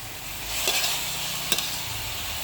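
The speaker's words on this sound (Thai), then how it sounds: "ผัดต้นอ่อนทานตะวัน" Sunflower sprouts stir-fry with minced pork in a hot pan, giving a steady close sizzle with a couple of sharp scrape or toss clicks from stirring.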